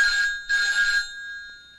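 A telephone rings indoors in two loud electronic bursts, the second longer, then the ring cuts off, leaving a faint, fading tone.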